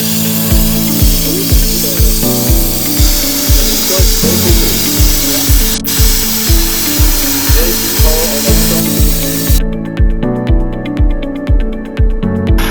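A Lematec sandblaster gun blasting rust off a bike, giving a loud, steady abrasive hiss with a regular pulsing rhythm throughout, close and alone with no talking.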